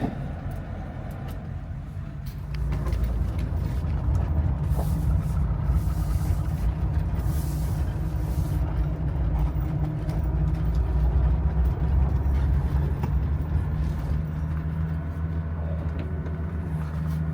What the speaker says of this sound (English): this is how this M110 engine usually starts